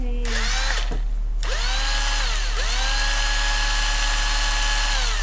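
Cordless drill bought secondhand from a thrift store, its motor whirring steadily and loudly throughout with a short pause near the start, then running continuously with pitch shifts as it speeds up.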